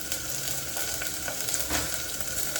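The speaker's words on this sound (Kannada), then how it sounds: "ಆನಿಯನ್ ಚೆನ್ನಾಗಿ ಫ್ರೈ ಆಗಬೇಕು, ಇಲ್ಲ ಹಸಿ ಸ್ಮೆಲ್ ಇರುತ್ತೆ." Chopped onions fry in hot oil in a pan, giving a dense, even sizzle that holds for a few seconds with faint stirring scrapes, close up and without talk.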